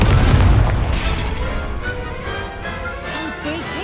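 A Confringo curse explodes in Hogwarts Legacy with a heavy boom at the start, followed by a decaying rumble and scattered crackling debris in the game's combat.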